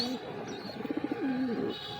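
A pigeon coos nearby, a soft rolling series of low throaty notes rising and falling, with faint background hum.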